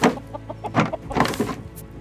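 A chicken in the Raft survival game clucks in a series of short, rhythmic squawks, close and clear, with a louder burst midway and no talk over it.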